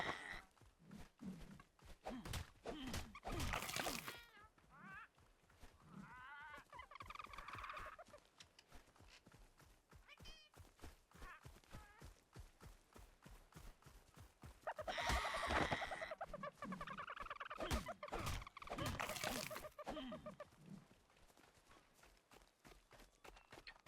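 Dodo birds in Ark: Survival Ascended cluck and squawk in repeated short bursts, with soft footstep-like clip-clop sounds. The calls stay close and moderately loud and come in uneven clusters without speech.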